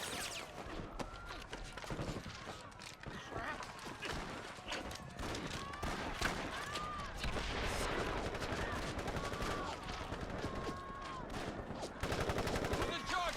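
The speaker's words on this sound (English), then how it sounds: "Love how cops are shooting at a BTR with nothing but like a revolver." Police firing revolvers at a BTR armored vehicle in World in Conflict, a busy battlefield of rapid, overlapping gunshots and scattered bursts, continuous and mid-distance, with voices mixed in.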